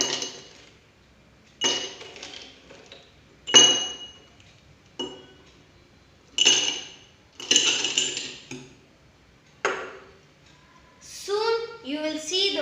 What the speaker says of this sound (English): First we have to add the ice cubes in the glass.